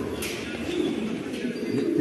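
Pigeons coo steadily at a pigeon auction for Shakhshir stud birds, a close, continuous low cooing with faint chirps over crowd noise.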